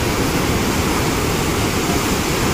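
Floodwater pours over a gate near the Balod–Rajnandgaon bridge, making a loud, steady, close rushing roar like a waterfall that fills the whole moment with no voices.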